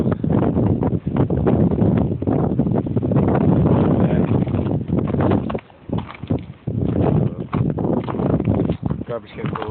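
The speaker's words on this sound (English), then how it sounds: "It's pretty windy out though." Strong wind gusts blow outdoors after a 2011 snowstorm, buffeting the microphone with loud, roaring rushes that drop out briefly midway before surging again.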